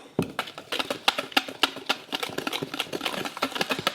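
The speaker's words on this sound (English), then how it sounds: "And we're going to whisk these together." Dry muffin ingredients with salt being whisked in a bowl: a rapid, steady run of light clicking and tapping strokes, close and fairly loud, with no talk.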